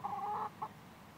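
Brahma and Polish hens giving a couple of short, soft clucks close by, one longer throaty note then a brief second one, faint against a quiet yard.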